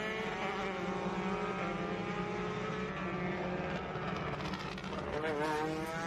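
USF Juniors race cars fire up and roll out of the pit lane at NOLA Motorsports Park, a layered engine drone with shifting revving harmonics, steady and fairly distant throughout.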